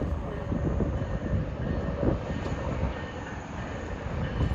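An NJ Transit passenger train led by an ALP-45A locomotive passes at Bound Brook, New Jersey, on a rainy day, giving a steady, moderately loud rumble of rolling wheels with a faint high tone above.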